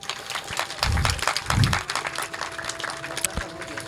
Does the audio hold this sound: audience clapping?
yes